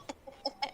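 A human voice imitates a clucking chicken with four or five short, sharp clucks in quick, uneven succession, fairly close and alone.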